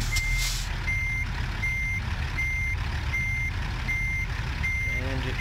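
A truck backs a trailer in American Truck Simulator, its reversing alarm beeping in a regular rhythm about once per second over a low, steady engine rumble, with a brief hiss near the start.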